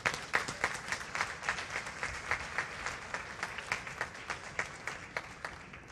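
A church congregation claps, a moderate crowd whose individual claps stand out in an uneven, pulsing rhythm, steady for the whole six seconds at a middle distance.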